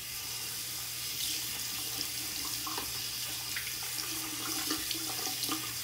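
Warm water runs steadily from a tap onto a washcloth at a sink, a continuous hissing splash that holds at moderate volume, with small irregular patters and drips throughout.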